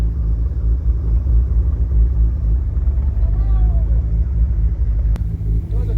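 A 2JZ-swapped Nissan S14 with no insulation or sound deadening on the tunnel rumbles from inside the cabin, a steady deep low drone with a brief faint squeak near the end.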